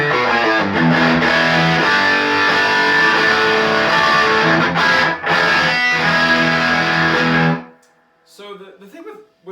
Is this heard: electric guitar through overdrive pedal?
yes